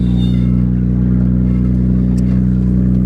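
A BMW E30 engine runs rough while driving, a loud, steady low drone with a constant hum and no clear stutter, heard close with no talk.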